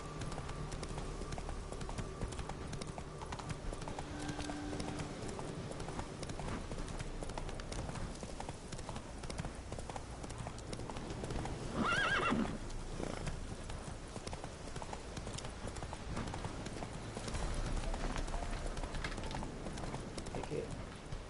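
Roach, Geralt's horse in The Witcher 3, galloping with steady hoofbeats close by, a short neigh-like burst midway, while a voice talks over parts of the ride.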